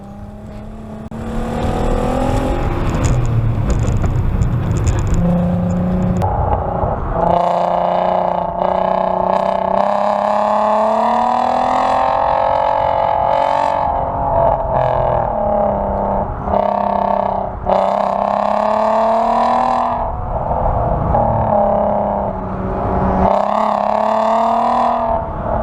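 A Volkswagen R32 is pushed hard on track at Lime Rock Park, its engine droning loudly with rising and falling pitch through gear changes and corners, heard continuously from on board with no talk.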